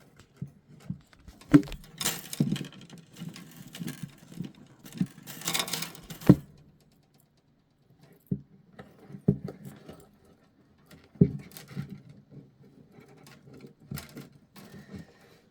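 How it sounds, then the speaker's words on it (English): Metal nut on the endpin jack of a Gibson J45 acoustic guitar being loosened by hand, giving a series of small close clicks, scrapes and taps in irregular bursts with short quiet gaps. "what you need to do is take this nut and back it off a little bit."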